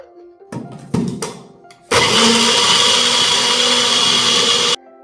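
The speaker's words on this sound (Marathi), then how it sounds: "मिक्सी करून घेऊया" A kitchen mixer grinder whirs loudly and steadily for about three seconds, blending a sauce of salt, cornflour, sugar, red chilli powder and water, after a few short clattering handling knocks.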